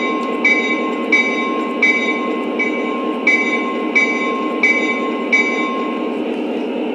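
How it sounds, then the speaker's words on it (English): Bell of a Lionel CSX SD40-2 model diesel locomotive, about six evenly spaced metallic strikes ringing out over a steady hum from the running toy engine, close and clear. "here's the bell"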